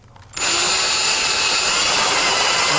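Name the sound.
power drill drilling a hole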